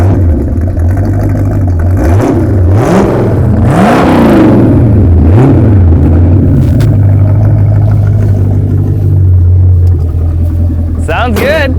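A 1967 Mercury Comet runs close and loud while driven. Its engine climbs and falls through several revving pitch sweeps, then settles into a steady cruising rumble, with people talking over it.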